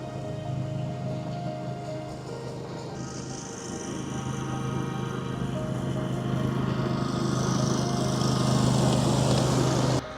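A lawn mower runs steadily while mowing around fruit trees in a vegetable garden, a close, continuous engine drone that grows slightly louder toward the end.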